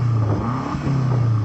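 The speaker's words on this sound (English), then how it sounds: "so I'm going to start off by revving up this M8." A BMW M8 engine is revved during a sound check, giving a loud, close, throaty growl that holds steady, dips briefly and then climbs again.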